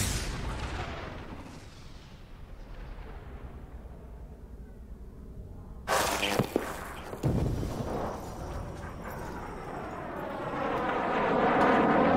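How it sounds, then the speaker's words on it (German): Airplane crash simulation in the video game The Forest: a steady rumbling roar builds, then a sudden loud impact around the midpoint with sharp bangs, followed by sustained heavy roaring noise that swells toward the end. "Jetzt wird eine Simulation gestartet, wie ein Flugzeug abstürzt."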